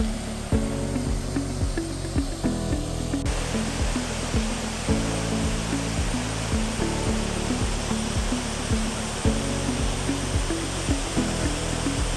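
Waterfall at Thirubali temple in Ernakulam, a loud, continuous roar of falling water that holds steady throughout, close and without voices.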